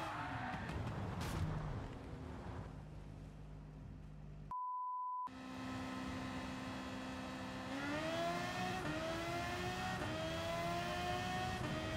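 A Suzuki VGT GR.3 race car in Gran Turismo at Suzuka for a GT3 race: the engine hums, a steady electronic beep sounds, then the engine revs climb in rising sweeps.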